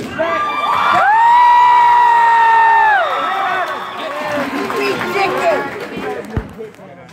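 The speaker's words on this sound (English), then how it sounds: "I encourage you to applaud and cheer at any time." A crowd cheering at an Air Force ROTC armed drill exhibition, with sustained whoops and shouts swelling loudly, then fading into mixed chatter and scattered calls, with voices clearly present throughout.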